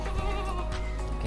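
A long-eared Kaligesing PE billy goat gives one short, close, wavering bleat.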